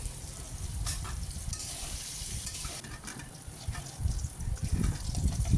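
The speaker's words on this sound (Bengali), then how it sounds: "সেই জন্য আমি প্রথমে আলুটাকে একটু ভেজে নিচ্ছি" Potatoes fry in oil in a pan for a chicken curry, producing a steady close hiss and crackle that swells louder toward the end, with no talking.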